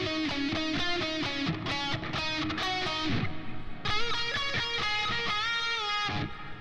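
Distorted electric guitar plays the ending of the second verse of a song, with rhythmic chugging notes followed by sustained bent and held notes, loud and close with no talking.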